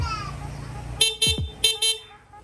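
Stock horn on a Honda Click 125 scooter, sounded in two pairs of short, sharp bleats, loud and close over a quiet idle background.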